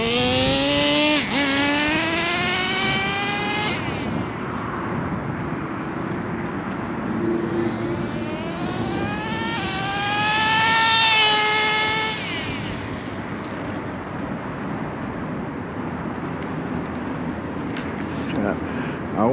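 An HPI RS4 Super Nitro RC car's engine runs through rising and falling high-pitched revving whines, with one big rev midway and a steady idle between bursts, while someone talks over it.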